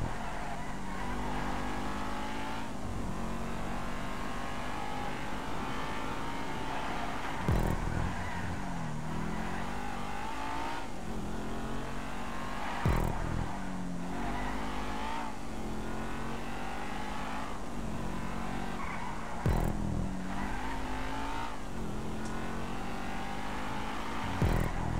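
Race cars in GTA V roar continuously with engine drones and revving pitch sweeps, punctuated by sharp bursts and gear shifts, loud and steady throughout.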